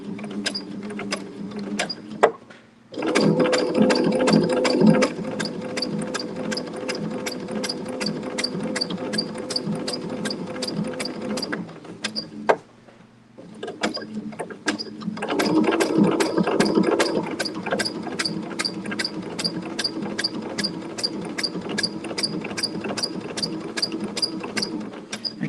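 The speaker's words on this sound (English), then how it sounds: "Gently turning as we stitch." A sewing machine stitches a fabric appliqué of a sailboat at sunset, its fast rhythmic needle clatter running loud and close in two long bursts separated by a brief pause, with no talking.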